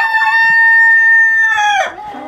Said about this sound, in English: That sound that you hear is the guineas.